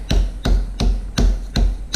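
A hammer whacks scrap sterling silver against an anvil in five loud, sharp metallic strikes at an even, steady pace, with no talk.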